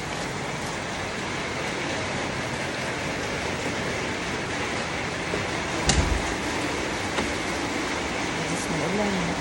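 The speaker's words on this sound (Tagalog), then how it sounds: "Malakas pa ang ulan sa labas." Heavy rain from a storm in Antipolo City, a dense, unbroken hiss of downpour outside heard from indoors, steady throughout with a brief thump partway through.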